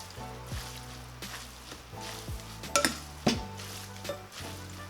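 Japchae ingredients are tossed together with sesame oil, giving soft stirring and mixing sounds with a couple of sharp clinks of utensils against a bowl, quiet and close.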